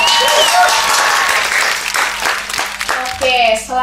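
Podcast hosts clap together to welcome a guest onto the show, a steady burst of close, dense clapping lasting several seconds that thins briefly near the end.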